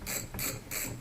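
A ratchet with a 12mm socket clicks rapidly while backing off a nut on an RC pull-start engine, three close, loud bursts of ratcheting in quick succession.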